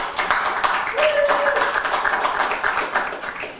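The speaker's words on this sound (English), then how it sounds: "That applause is richly appropriate." Audience clapping at a city committee meeting, a short burst of applause greeting an invited expert, with the sound moderately loud and fairly close.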